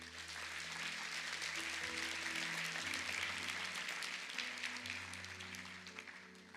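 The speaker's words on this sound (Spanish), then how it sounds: "Dale un aplauso al Señor" A church congregation applauds for the Lord during a sermon, steady sustained clapping from many hands over held organ or keyboard tones, thinning slightly near the end.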